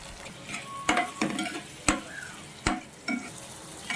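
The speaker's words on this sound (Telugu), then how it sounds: "చక్కగా ఇదంతా వేయించుకుందామండి" Spices and boiled peanuts with turmeric fry in a pan for lemon rice, a soft sizzle broken by several sharp clinks and scrapes of a stirring spoon at an uneven rhythm, close and fairly quiet, with no talking.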